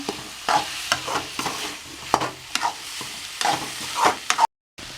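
Fish puttu with chilli powder and garam masala stirred and sautéed in a pan: quick scraping strokes of a spoon against the pan over a soft sizzle, close and fairly quiet, ending abruptly.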